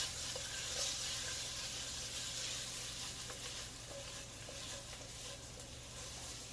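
Potatoes pan-sear in a hot pan, a steady, fairly quiet sizzle and hiss with occasional light scraping as they are stirred around, and no talking.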